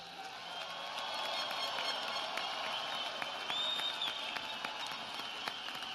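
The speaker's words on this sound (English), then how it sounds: "Give them a round of applause, would you please?" Graduates and guests at a West Virginia University December commencement ceremony break into a sustained round of applause, a broad even wash of clapping heard from a distance in a large hall, with a few whistles or cheers rising over it.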